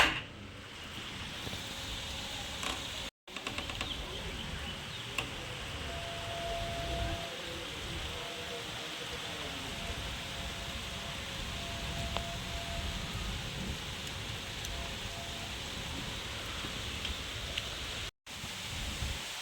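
Strong wind and storm rain roar steadily and loudly throughout, a broad continuous wash with brief cut-outs and no talk.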